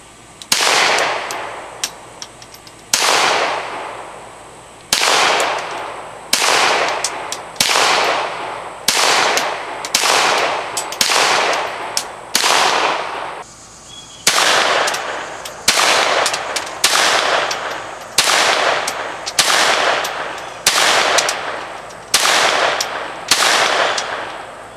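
Gunshots from revolvers and rifles, including a North American Arms revolver, fired at a small target: about twenty loud, sharp reports at an irregular, fairly quick pace, each ending in a short decaying echo, with no talking.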